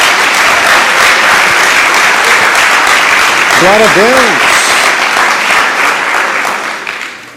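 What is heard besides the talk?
church congregation applause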